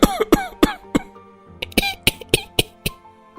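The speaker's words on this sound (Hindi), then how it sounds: "सभी को साथ में खांसी आने लगी?" Several people in a household hall cough in a rapid sequence of sharp, loud bursts, some overlapping, spread across a few seconds with brief quiet gaps and no talking.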